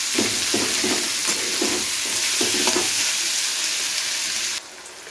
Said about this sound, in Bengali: এবারে হালকা করে পেঁয়াজ রসুনগুলোকে আগে ভেজে নিতে হবে